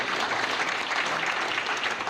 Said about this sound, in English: make sure we all do a round of applause as they stand up